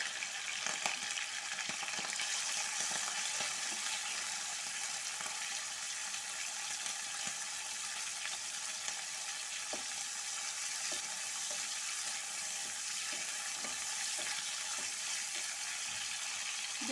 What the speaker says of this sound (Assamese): প্ৰথমতে মই মিছা মাছখিনি ভাজি ল'ম।